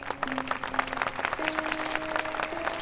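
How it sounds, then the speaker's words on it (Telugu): A crowd applauds at a memorial announcement, where a leader's residence is declared a memorial building; steady, dense clapping runs throughout with a faint sustained tone underneath. "చప్పట్లు కొట్టండి"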